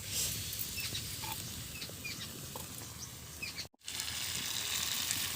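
Potato and bitter gourd with mustard paste sauté in a pan as the water cooks off, giving a soft, steady sizzle and crackle with a brief dropout near the end.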